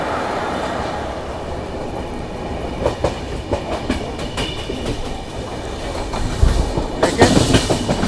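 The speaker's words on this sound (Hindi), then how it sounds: "सामने में खड़ा है WHG7 लोकोमोटिव" Rail noise at Chichonda railway station with a WHG7 locomotive standing nearby, a loud continuous rumble broken by repeated clickety-clack wheel beats that swell toward the end.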